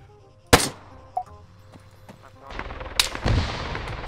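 Gunfire in an ArmA 3 King of the Hill match: two sharp, loud shots about two and a half seconds apart with a fainter crack between, over low in-game rumble.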